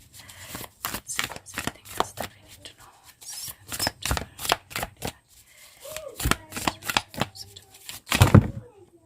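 A tarot deck is shuffled and cards are drawn and laid down, with quick rhythmic riffling and sharp card flicks in close, repeated bursts, then a louder shuffle near the end.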